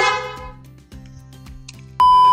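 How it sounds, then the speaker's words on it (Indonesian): A Tia brand aftermarket horn on a 2021 Kawasaki Ninja ZX25R, Mercedes-like in tone, blares one loud sustained honk near the end after a quieter stretch of idling engine and tonal noise. "ini di bagian dalam tapi klaksonnya merek Tia, suaranya kayak Mercedes"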